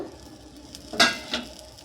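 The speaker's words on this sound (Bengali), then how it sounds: "ডিম দিয়ে আমার ডিম ভাজা আলু ভাজা হয়ে গেছে।" Eggs and potatoes fry in a pan at home, a faint sizzle with a couple of brief clinks as the lid comes off or a utensil stirs.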